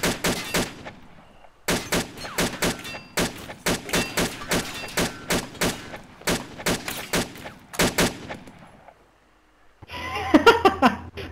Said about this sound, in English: I'm trying to shoot out the light.